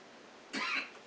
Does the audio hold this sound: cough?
yes